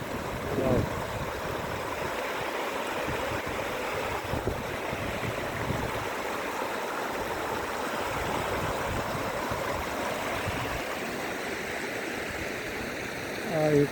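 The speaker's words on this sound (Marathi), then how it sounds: "छोटासा वॉटरफॉल आहे." A small waterfall and stream run with a steady, broadband rush of flowing water, close and continuous, on agricultural land in Dapoli in the Konkan region, with faint wind.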